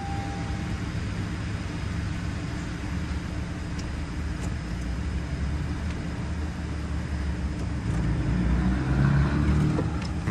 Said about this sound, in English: Let the car idle down.